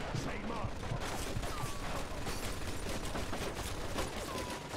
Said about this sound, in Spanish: Parece que hemos encontrado la ametralladora.